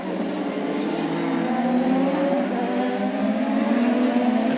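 A CART race car, Sebastian Bourdais's, rolling out of the pit lane at the 2003 Molson Indy Toronto, a steady engine whine rising gradually in pitch as it pulls away.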